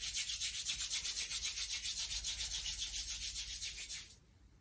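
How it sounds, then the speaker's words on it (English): Palms rubbed briskly together in a quiet yoga session, a steady close swishing friction with an even back-and-forth rhythm that continues for about four seconds and then stops. "rub the palms together,"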